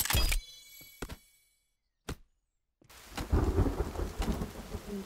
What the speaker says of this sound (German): Und es fängt an zu regnen.